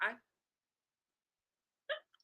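A person burps twice during a live stream: a short, close, throaty burst, then silence, then a second shorter burp with a small trailing catch.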